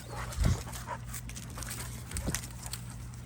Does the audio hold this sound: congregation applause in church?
no